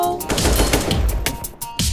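Rapid bursts of automatic gunfire in the video game CS:GO, loud, close shots fired through walls in quick sequence with brief pauses between volleys.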